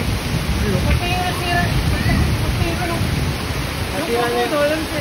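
A strong stream of rainwater rushing after a sudden downpour, a loud continuous roar close by, with people talking over it.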